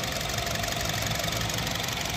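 A 2020 Honda City's four-cylinder, 16-valve engine idles steadily under the open hood, a smooth continuous hum with a faint rhythmic tick, close and even throughout.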